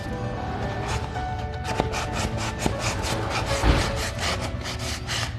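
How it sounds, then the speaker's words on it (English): A sanding block rubs old clear coat off a wooden staircase in steady back-and-forth strokes, a continuous close scratchy rasp with a few light knocks and no talking. "I'm going to take my sand block and I'm going to sand"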